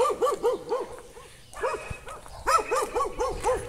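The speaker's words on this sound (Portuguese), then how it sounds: "Latindo sem parar." A guard dog in a small town square barks without stopping, a rapid run of loud, close, rhythmic barks with a brief gap partway through before the barking resumes.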